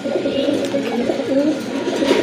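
A multi-coloured pair of Babra Giribaz pigeons coo softly and continuously, close by, in low rolling, overlapping calls without pause.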